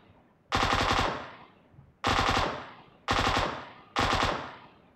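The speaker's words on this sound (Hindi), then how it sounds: "कोई मशीन गन लेकर आया मुझे मारने" Machine gun fire in the video game PUBG, four loud sustained bursts of rapid automatic shots with decaying tails between them, no voices.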